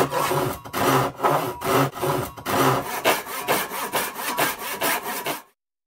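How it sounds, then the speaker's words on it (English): A pull saw cuts through wood in a steady looped rhythm of about a dozen close, loud rasping strokes, each with a gritty push-pull texture, ending abruptly in silence. "we have your typical sawing sounds, which I've gone ahead and looped"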